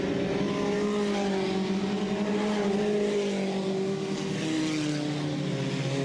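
Mini stock cars race in a dirt track heat race at Southern Ontario Motor Speedway, their engines droning and wavering in a continuous loud, layered roar as the field passes.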